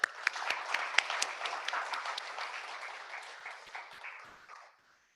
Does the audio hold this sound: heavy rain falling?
no